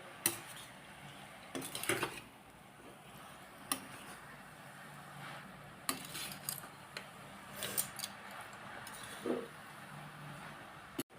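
Carrot halwa is stirred in ghee in a metal pan, with a repeated scrape and clatter of a spoon against the pan every second or two over a faint low sizzle, no voices.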